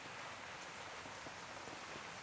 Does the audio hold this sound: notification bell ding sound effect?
no